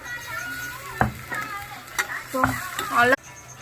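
Onions and fresh ginger paste frying in a pan for mutton curry, a steady sizzle broken by a few sharp scrapes of stirring, with some faint background voices.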